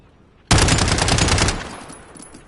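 Call of Duty SMG gunfire: a loud sustained automatic burst lasting about a second after a short quiet lead-in, then trailing off into a fading echo with no talk.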